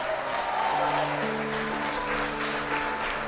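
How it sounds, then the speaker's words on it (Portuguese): A church congregation claps and cheers during a sermon, a loud, steady roar of applause with shouting voices, while sustained instrumental tones from a band or keyboard play underneath. "dá um aplauso ao Eterno e um brado de vitória"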